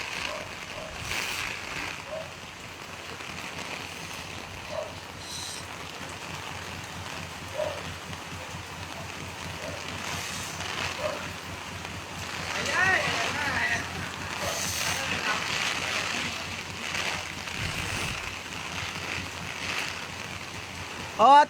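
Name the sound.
strong typhoon wind and rain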